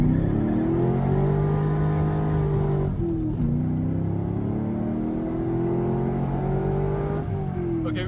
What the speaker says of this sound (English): I low-key just did a fat burnout